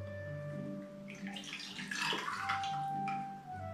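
Ice and ingredients for an alcohol-free white sangria being stirred together, a close, moderately loud swirl of clinking ice and liquid that peaks midway and then settles.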